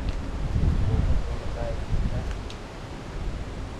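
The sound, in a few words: strong wind outdoors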